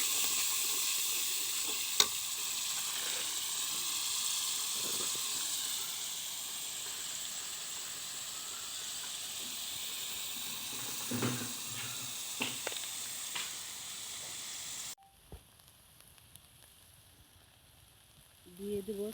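Garlic and cumin spice paste fries in a pan for a taro curry, a steady close sizzle with occasional spoon clicks and scrapes, before the sound drops to a quieter hiss near the end.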